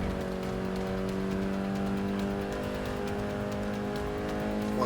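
Renault Sport Clio 200 engine in the racing game Forza 6 at Spa, a steady droning engine note holding at speed under load, with no talking.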